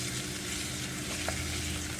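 Bacon frying in a pan for southern green beans, a dense, even hiss of hot fat with a faint stir partway through; no voices.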